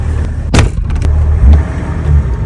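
Land Rover Defender fitted with a BMW M57 engine, heard from inside while driving: a deep, loud low rumble with a couple of sharp knocks and surges as the throttle is worked.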